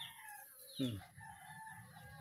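Chickens cluck faintly in the background while a rooster crows once, loud and close, briefly rising above the quiet farmyard ambience.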